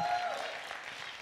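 A church congregation claps together in a short burst of applause that fades slightly, heard within a sermon setting.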